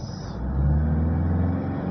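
Toyota Hilux engine with its engine warning light on, revved hard while stationary, giving a steady loud low drone that swells slightly but holds nearly level pitch for two seconds, with no talk over it.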